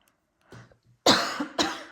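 A woman coughs several times while hand-stitching an appliqué rabbit onto a linen tea towel, a soft throat sound followed by two loud, close, harsh coughs in quick succession.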